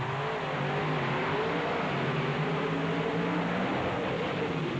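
Monster trucks, a blue truck and Bigfoot, race at a 1996 Bloomsburg event, their engines roaring loud and steady with no letup, the droning tone shifting slightly as they push on.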